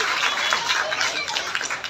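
A crowd at the Kadalekai Parishe groundnut fair on Bull Temple Road in Basavanagudi applauds with a steady wash of many hands clapping, fairly close and sustained, without speech.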